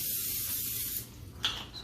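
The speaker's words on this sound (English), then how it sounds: "We got our spray here. So butter, spray, whatever you like." Cooking spray hisses from a can onto a pan in one close, steady burst of about a second, followed by a brief second spritz, with no talk.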